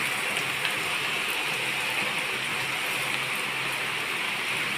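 Steady heavy afternoon rain pours down in a constant dense hiss, with drops pattering on betel leaves nearby and no other sounds.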